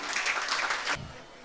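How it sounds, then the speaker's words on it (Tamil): An audience at a dance school's salangai pooja ceremony applauding, a short dense burst of clapping that stops abruptly after about a second, leaving quiet room tone. "திருமதி மாலதி அண்ட் திருமதி சுகன்யாக்கு அரங்கம் நிறைந்த கரகோஷம் கொடுக்கலாம்."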